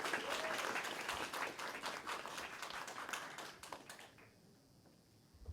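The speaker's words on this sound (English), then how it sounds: "Please give them a round of applause, everybody" Audience applause at an inter-secondary school debate, a steady wash of many hands clapping that fades out near the end.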